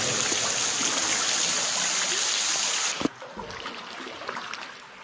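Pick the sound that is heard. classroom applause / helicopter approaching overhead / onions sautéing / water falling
water falling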